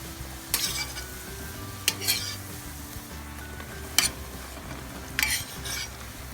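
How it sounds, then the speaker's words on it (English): Barra dough for Trinidad doubles goes into hot oil in four separate bursts of bubbling sizzle, each fading against a quiet kitchen background, with no talk. "And I'm going to get it into the oil."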